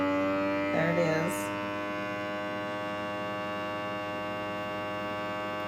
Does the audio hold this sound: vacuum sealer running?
yes